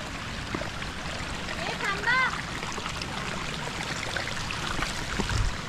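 Water flows through a shallow stream crossing on a monsoon trek to Devkund waterfall in Tamhini Ghat, Maharashtra. It makes a faint, continuous trickle and gurgle, with a few light splashes and a brief chirp-like sound partway.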